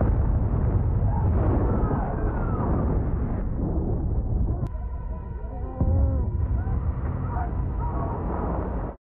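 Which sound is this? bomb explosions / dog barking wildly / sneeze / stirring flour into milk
bomb explosions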